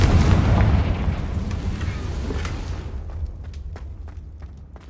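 Confringo explosive spell in Hogwarts Legacy bursting with a loud, broad boom that rumbles and decays over several seconds, with faint footsteps and small clicks in the tail.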